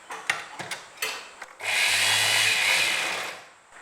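After a few light handling taps, a sewing machine runs a quick burst of stitching along a kurti seam, a close whirring rattle lasting about two seconds before it stops.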